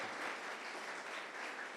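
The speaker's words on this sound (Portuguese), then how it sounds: "Pode aplaudir o Senhor." A church congregation applauds the Lord during a sermon, a soft, even wash of many hands clapping heard faintly, as if from a distance, with no pause.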